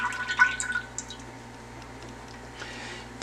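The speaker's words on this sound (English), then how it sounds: "So I'm pouring 1 can of evaporated milk in here" Evaporated milk poured from a can into a saucepan on a stove that is switched off, a brief liquid splash and gurgle at first, then a quiet trickle that fades to near silence.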